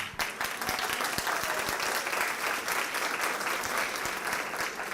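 Audience applause at an education event opening, a steady, dense wash of many hands clapping close and loud, with a few sharper individual claps standing out, continuing throughout without talk.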